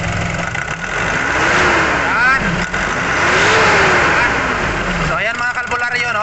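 A Nissan NV350 van's YD25 diesel engine, suffering a turbo actuator malfunction and low power, revs up and drops back in a few rising and falling surges over a steady running drone, with faint talk in the background.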